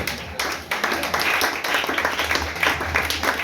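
A church congregation breaks into sustained applause, a dense, steady wash of many hands clapping at once that swells in places, with voices mixed into the crowd noise.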